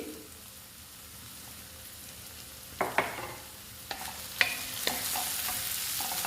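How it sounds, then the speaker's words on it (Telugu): Egg rice with turmeric and salt stirred and mixed in a frying pan, a steady close sizzle with a few sharp scrapes and clacks of the spoon against the pan. "ఇప్పుడు బాగా కలుపుదాము"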